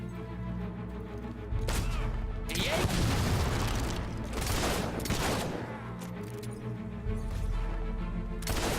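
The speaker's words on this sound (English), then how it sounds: "Some more tactical shooting." Repeated gunfire and heavy booms in Fable III on Xbox One X, a dense volley of close shots and blasts over a sustained musical and ambient bed, with several loud bursts through the middle.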